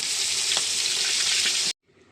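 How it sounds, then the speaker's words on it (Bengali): Steady, loud sizzling of fish frying in hot oil for a curry, continuous with a few small pops, then it cuts off abruptly near the end. "ঝোলের মাছের জন্য মাছ ভাজা চাপিয়েছি"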